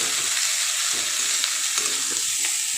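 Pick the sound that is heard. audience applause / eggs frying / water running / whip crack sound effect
eggs frying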